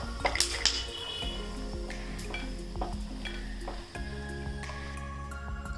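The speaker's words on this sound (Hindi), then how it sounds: "काजू और बादाम हमने रोस्ट कर लिए हैं।" Cashews and almonds roasting in a pan, with a soft sizzle and the scrape and clink of a stirring utensil against the pan in irregular bursts, close and fairly quiet.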